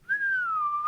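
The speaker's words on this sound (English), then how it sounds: "Whistle! Wow." A person whistles a single sustained, slightly wavering tone for about a second, clear and alone without any talk over it.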